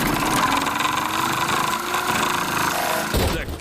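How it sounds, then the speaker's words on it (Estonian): A cartoon campervan engine hums and rattles steadily as the van drives straight into a river, close and continuous, then cuts off abruptly near the end. "Matkasuvila sõidab otse jõkke."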